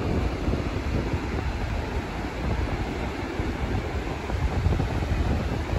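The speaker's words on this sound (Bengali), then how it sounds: "সমুদ্রের শব্দ, বাতাস, বাতাসে মনে হচ্ছে কান বন্ধ হয়ে আসছে" Sea waves and strong wind at Le Touquet beach in France, a loud continuous roar of surf mixed with heavy wind buffeting the microphone, with no talk.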